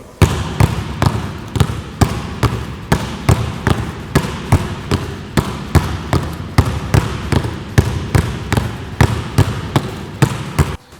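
Basketball dribbled hard on a court in a two-bounce crossover drill, a steady run of loud, close bounces about every half second, with no talking.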